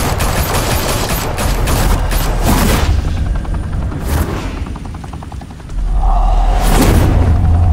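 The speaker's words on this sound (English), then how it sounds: "Open fire!" Dense bursts of automatic gunfire from the Batman Telltale video game, loud and continuous over a heavy low rumble, easing off midway before a booming swell returns.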